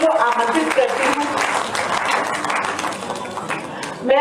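Loud applause from a crowd fills the room at a Hindi Day poetry gathering, steady and sustained, with a voice carrying over the clapping.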